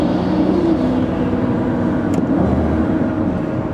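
Turbocharged Lamborghini with a new clutch, driven on the road, holds a loud continuous engine drone from inside the car, steady throughout with no clear separate blips standing out.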